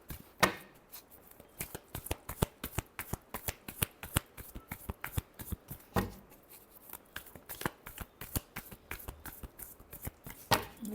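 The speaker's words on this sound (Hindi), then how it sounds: "last shuffle" A tarot deck being shuffled by hand, a rapid run of crisp card slaps and riffles in quick irregular bursts, close and fairly quiet, with no talking.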